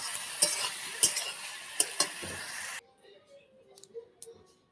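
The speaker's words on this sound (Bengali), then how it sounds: "শাক ভাজায় সামান্য একটু চিনি দিয়ে দিয়েছি।" Leafy greens stir-fried with a little sugar hiss gently in a pan while a spatula or utensil scrapes and clicks against the metal in several sharp strokes, followed by a quieter stretch with scattered light clinks.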